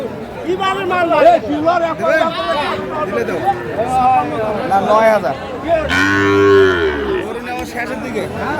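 A crowd of people chatters loudly at a cattle market in Sylhet while a deep Sahiwal bull's moo rises out of the babble partway through, close and brief.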